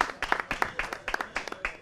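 An audience in a talk applauds in a short, uneven burst of claps, several hands striking irregularly at close range with no voices over them.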